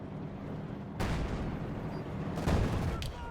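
Gunfire rings out in a Company of Heroes 2 battle between Wehrmacht and US forces. Two sharp, booming shots land about a second and a half apart over a low, rumbling battlefield background.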